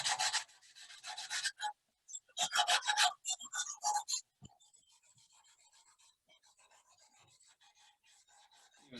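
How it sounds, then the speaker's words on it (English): A carbon fiber Concept2 oar shaft is sanded by hand in several close, scratchy bursts of rubbing strokes, followed by quieter, fainter rubbing. "Sand it really well."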